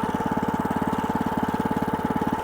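The engine of an AgroRay WM500 garden tractor idles while warming up, a steady, close, rhythmic low chugging with no talk.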